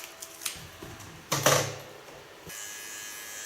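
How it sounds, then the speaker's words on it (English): A small electric hair clipper tidying fine nape hairs during a haircut, short bursts of buzzing with a louder stretch in the middle, then a faint steady hum. "then go to my small clipper"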